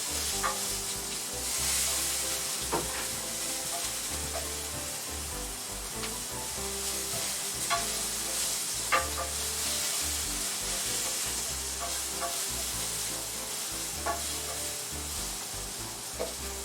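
Cherry tomatoes sizzle in a hot pan, a loud, steady frying hiss with occasional pops and stirring scrapes, close up and without any talking.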